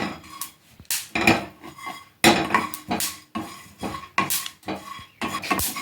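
Repeated scraping and clattering of a spatula stirring coconut roasting dry in a metal pan, irregular strokes close up, with a faint sizzle underneath.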